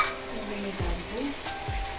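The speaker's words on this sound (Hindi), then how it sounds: "टमाटर अदरक लहसुन के पेस्ट बनाए हैं और मसाला भून लेते हैं" Masala of tomato, ginger and garlic paste frying in a pan, a soft steady sizzle with occasional stirring scrapes, close by and without talk.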